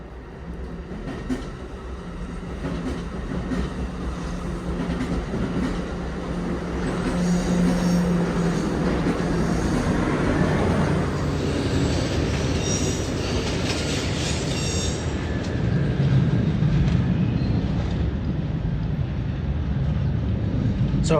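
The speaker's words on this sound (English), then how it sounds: "that's a Capital Corridor train that's headed for Sacramento" A Capitol Corridor passenger train bound for Sacramento rolls past at close range with a heavy rumble of wheels on rail. Squeals and a rising, roaring swell build through the pass, with no talking.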